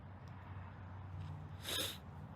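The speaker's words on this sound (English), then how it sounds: "I'm sneezing." A single short, sharp sneeze bursts out near the end from someone lying in leaves, following quiet background hiss and faint rustling.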